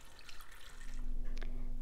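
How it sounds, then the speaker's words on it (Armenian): Water poured from a container into a pot of washed beans and grain for bean soup, a soft continuous splashing and gurgling that settles into a steadier fill. "Եվ ավելացնում ենք 4 լիտր ջուր։"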